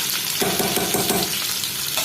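Small shallots hiss and sizzle in hot oil in a pan, a steady, close frying crackle while they are stirred, with no talking.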